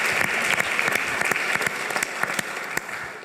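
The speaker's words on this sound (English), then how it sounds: "a round of applause for her." A university lecture audience breaks into a round of applause, dense steady clapping with sharper individual claps standing out, sustained and fairly close throughout.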